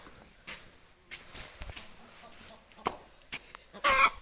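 Hens clucking in a few short, scattered bursts, fairly quiet, with a louder cluster of clucks near the end.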